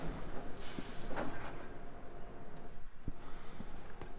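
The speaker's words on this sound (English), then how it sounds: "Well, one train managed to stop." In the game Resident Evil 6 a train comes to a stop, with a rumbling carriage hum, hissing brake bursts and a few sharp metallic clanks, fairly quiet and with no voices.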